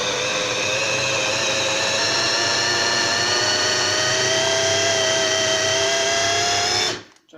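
Blender whirring steadily as it purées truffle slices, olive oil, garlic, salt and boiled chickpeas into a paste, a loud continuous motor whine with shifting harmonics that cuts off abruptly near the end.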